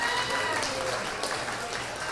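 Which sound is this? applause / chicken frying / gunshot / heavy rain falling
applause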